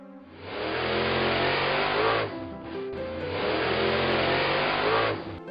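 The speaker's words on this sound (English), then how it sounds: "Monster ambulance." A loud ambulance engine revs up twice in a row, each roar building and holding before cutting off briefly, close and without any talking.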